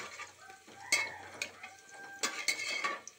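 Onions stirred and fried in a pan for a kohlrabi and potato curry, with light sizzling under repeated scraping and clinking of a spoon against the pan, several distinct knocks in an uneven rhythm.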